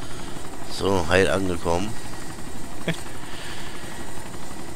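A helicopter in the DayZ Epoch video game drones as a steady, noisy engine and rotor wash beneath a man's brief speech, with a short sharp click partway through.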